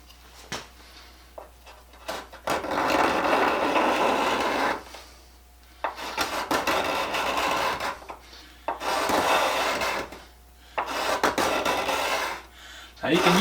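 A hand-held steel scraper blade, cut from free metal banding, shaves across a wooden workpiece in several long rasping strokes separated by short pauses, close and fairly loud with no talk.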